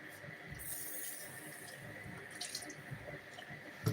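Onions and carrots are washed under a running kitchen tap, a steady faint stream of water with light splashing and handling noises, quiet and close.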